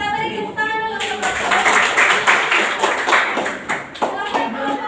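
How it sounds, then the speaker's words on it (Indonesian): Classroom audience at a teaching practice exam gives a burst of applause for a presenting student group, a few seconds of brisk clapping mixed with scattered voices nearby. "kita beri tepuk tangan dulu untuk"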